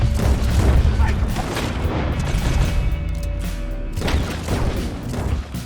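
Booming gunfire rings out in the Red Dead Redemption video game as the law is shot at, a loud continuous barrage of blasts and rumbling explosions with faint voices in the mix.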